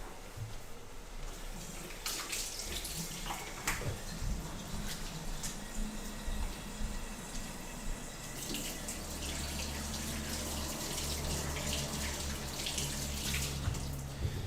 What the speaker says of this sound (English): I'm going to wash my hands of some of this flour.